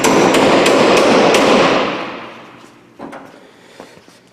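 A hammer bangs up drilled-out spot welds on a Fox Body Mustang roof in a metal shop, a loud ringing metal strike that fades slowly, followed by a couple of lighter taps.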